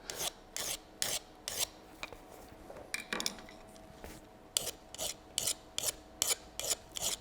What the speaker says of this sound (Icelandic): Fjölin á of auðvelt með að fara í gegnum efnið